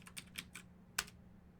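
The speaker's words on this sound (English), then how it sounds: "So now that you were watching me typing" Fingers tapping a computer keyboard in short bursts, four quick clicks followed by a pause and one sharper keystroke, close and quiet with no talking.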